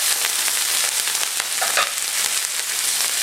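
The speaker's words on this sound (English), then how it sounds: "So we're going to place our meat in the pan." Flank steak searing in a hot pan with canola oil, giving a loud, steady, close sizzle that hisses continuously with no talking.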